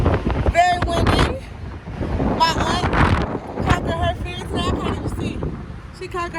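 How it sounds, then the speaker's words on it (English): Strong wind buffets the microphone on the open top deck of a Carnival cruise ship, roaring continuously while several people talk over it. "Very windy."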